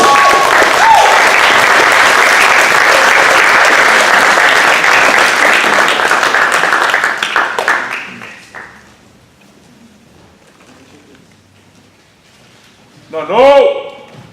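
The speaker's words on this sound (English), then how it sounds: "help me with a thunderous round of applause to bring up to the stage Beat Boy Nano" Thunderous applause and cheering from a crowd welcome break dancer Beat Boy Nano to the stage, loud and sustained for about seven seconds before fading out; a short voice is heard near the end.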